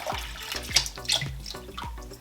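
Alkaline water pours steadily from a bottle over sea moss in a bowl, a continuous splashing gurgle with rhythmic glugs as the bottle empties, close and alone.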